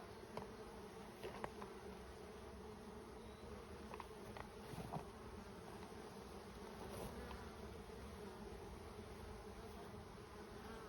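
Honey bees swarm over an open hive while a beekeeper adds a second deep brood box: a steady, dense buzzing hum holds evenly throughout at close range, with no voices.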